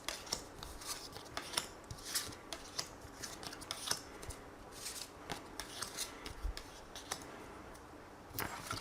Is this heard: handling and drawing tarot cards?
yes